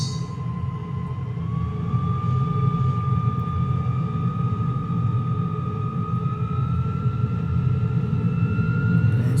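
A de Havilland DH100 Vampire jet taxis in Microsoft Flight Simulator 2020, giving a steady loud engine whine with a rising tone over a constant low rumble, continuous throughout and with no voices.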